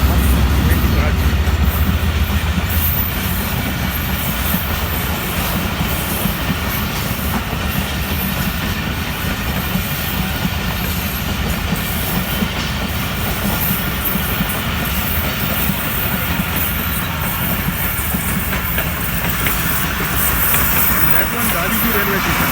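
A train passes on a line in Pakistan, heading for Karachi near Dabiji railway station; a steady, loud rumble of wheels and carriages runs throughout, with someone talking over it.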